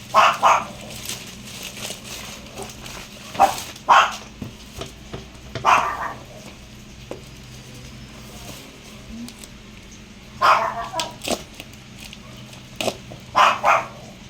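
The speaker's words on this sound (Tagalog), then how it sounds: "Choco, napakaingay talaga ni Choco" A pet dog barks noisily in a home, giving loud bursts of several yaps in repeated clusters with quiet gaps between them and no talking over them.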